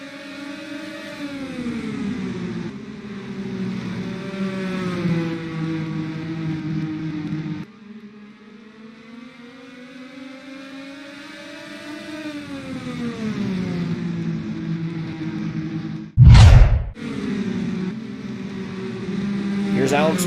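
IndyCar race cars run down the straightaway at about 135 miles an hour, their engines a loud, steady high whine that shifts in pitch as cars pass. One sharp burst cuts through near the end.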